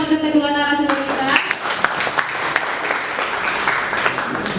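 Applause for two speakers at an inauguration and talk show event, with a brief voice at the start, then a scattered, moderately loud round of clapping from the audience.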